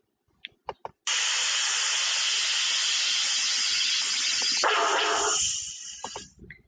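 Steady broadband hiss of sizzling fills most of the clip, loud and continuous for several seconds, preceded by a few short taps and ending in a fading tail with small clicks.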